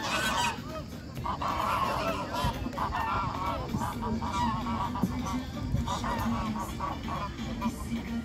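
Large flock of geese honking continuously at Pamukkale travertines, a busy chorus of overlapping calls nearby, with faint voices in the background.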